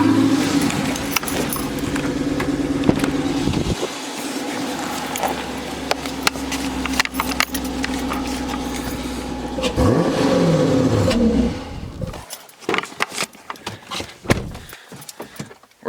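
A diesel-powered car engine cranks and catches, then idles with a steady low rumble before a surge of revving near the end, followed by scattered clicks and knocks, close and fairly loud.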